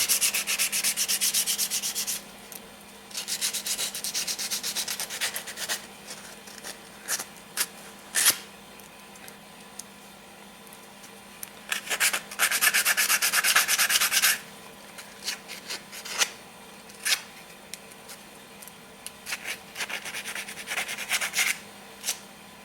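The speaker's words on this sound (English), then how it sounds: "This guy here needs some sanding going on." Repeated rough scraping strokes of sanding on a metal hinge from a Kawasaki KLT 200C, coming in bursts with short pauses between them, close up and fairly loud.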